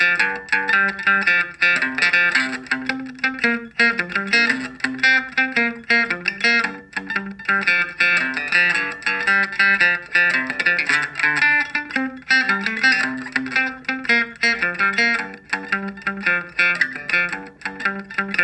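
Electric guitar playing a low-note 12-bar blues riff, a rhythmic picking pattern alternating between muted, choppy notes and ringing ones, steady and loud throughout with no voice.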